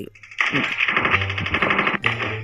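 Rapid automatic gunfire in the Chicken Gun video game: a loud, sustained rattling burst that cuts off briefly and resumes.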